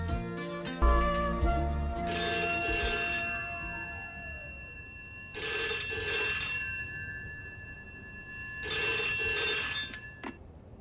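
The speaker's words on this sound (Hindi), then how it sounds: "एक मिनट किशन भाई, आपके भाई का फोन है।" A telephone bell rings in three separate bursts with pauses between them, fairly close and clear, with no voices.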